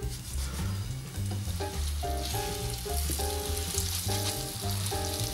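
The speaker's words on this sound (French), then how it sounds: "C'est parti, je mets mon petit piment à côté pour le faire frire également." Floured, gutted and scaled fish frying in hot oil in a pan for a Tunisian fish dish, a steady loud sizzle and crackle running throughout beneath background music.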